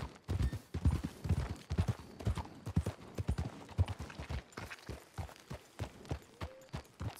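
Horse hooves clip-clop steadily in Red Dead Redemption 2, a regular walking rhythm of close, distinct hoof strikes continuing throughout with faint background sound.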